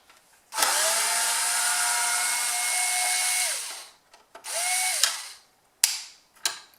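A power tool unscrews screws from motorcycle trim pieces: a steady whirring drive runs for about three seconds, then a shorter burst follows, ending with a few sharp clicks and brief spins, close and clear with no talk.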